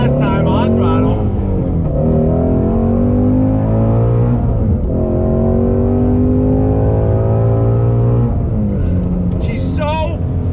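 A 2020 Shelby GT350R engine revs hard on throttle, a loud harmonic roar that climbs in pitch in repeated pulls with brief lifts between, close and dominant, with a voice briefly at the end.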